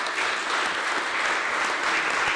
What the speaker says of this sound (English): I ask you for a round of applause to all of them.